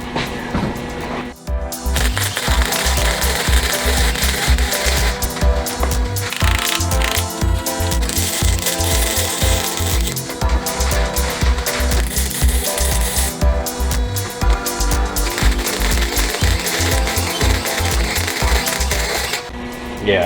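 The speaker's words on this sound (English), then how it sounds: "I think now as I weld it, I'll be able to shape that some more." Welding on the rotten dash of a truck, a continuous loud crackling and sputtering that runs steadily and close throughout with dense rapid pulsing.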